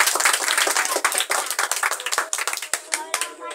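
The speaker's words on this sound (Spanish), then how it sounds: "¡Aplaudan!" Applause from the audience at a church event giving shoes to children, dense clapping that stays loud and steady before thinning into scattered claps, with voices mixed in.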